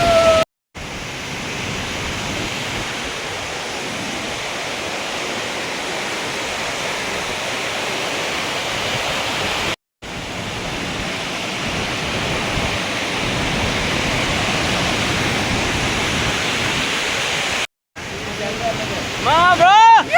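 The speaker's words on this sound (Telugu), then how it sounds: "వచ్చేసాం లద్దా వాటర్ ఫాల్కి" The Bahubhali waterfall pours with a loud, steady broadband roar of rushing water heard up close, continuous apart from a few brief cuts.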